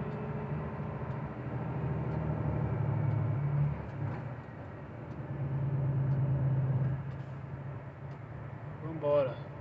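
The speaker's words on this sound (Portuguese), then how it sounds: "Só segurando aqui no freio motor na reduzida aqui." Truck descending a hill in low gear on engine braking, with a steady low mechanical rumble that swells and eases, while a voice talks over it throughout.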